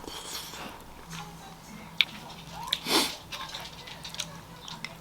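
Crunchy sweet corn being bitten and chewed close to the mic during a Korean diet meal, with a few soft crisp bites and crunches spread over a quiet background.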